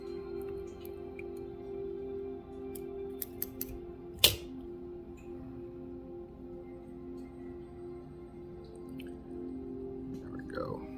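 Scissors give one sharp snip through fly-tying material at a bench while tying an olive Game Changer fly, with a few faint ticks before it, all over a steady low room hum.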